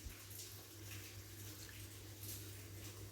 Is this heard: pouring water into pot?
yes